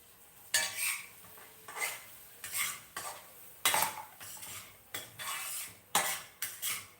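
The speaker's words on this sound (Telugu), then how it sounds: "బాగా బ్రౌన్ కలర్ వచ్చే వరకు దీన్ని వేయించండి" Wheat rava roasts in ghee in a pan while a spoon stirs it, producing roughly ten loud, close bursts of gritty scraping with metal clinks and a faint sizzle between strokes.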